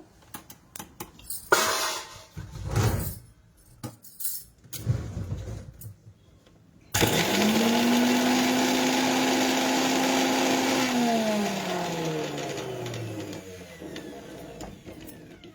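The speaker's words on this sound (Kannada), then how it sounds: "ಶುಂಠಿನ ಒಂದು ಸ್ವಲ್ಪ ತರ್ತರಿಯಾಗಿ ಗ್ರೈಂಡ್ ಮಾಡ್ಕೊಳ್ಳೋಣ" A mixer grinder coarsely grinds ginger in its jar. After a few clattering knocks from handling, the motor starts abruptly with a loud whirring whine, runs for several seconds, then winds down with falling pitch. No one talks.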